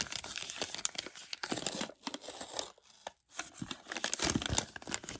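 Paper crinkles and rustles close up in uneven bursts, with short pauses, as a packet is handled and torn open.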